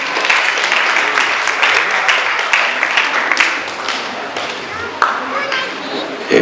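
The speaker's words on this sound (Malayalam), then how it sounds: "ബഹുമാനപ്പെട്ട ശ്രീ S. ശ്രീകുമാറിനെ നിറഞ്ഞ കയ്യടികളോടെ വേദിയിലേക്ക് സാദരം ക്ഷണിക്കുന്നു." Audience applause at a cultural festival inauguration, steady clapping from a crowd with a few sharper claps and thumps, sustained through the whole stretch.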